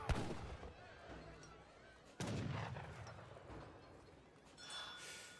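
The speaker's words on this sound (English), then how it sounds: "he has 2 great bombards coming in" Great bombard artillery in Age of Empires III fires as two heavy booming blasts with long rumbling tails, loud and close amid battle noise, followed by fainter crackling impacts.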